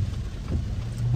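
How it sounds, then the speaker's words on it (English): Heavy rain pouring down during a downpour, a dense, continuous loud wash of falling water with a low rumbling undertone and no pauses. "Look at that rain. It's crazy."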